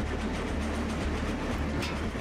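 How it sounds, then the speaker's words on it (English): Train rolling along in the Trainz railway simulator game, a steady loud rumble of wheels and cars with faint rail clatter, continuous and close, with no voices. "I'll just stop this train here."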